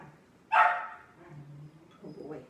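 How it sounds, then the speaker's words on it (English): A jealous puppy gives one sharp, loud bark, then faint whimpering and soft yips follow, close to the microphone. "Miss Pink puppy jealous."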